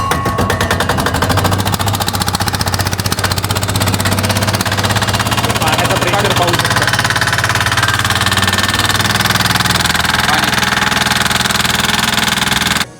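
A key-start diesel farm pump engine chugs loudly and steadily at close range with a rapid rhythmic knock, then stops abruptly at the end.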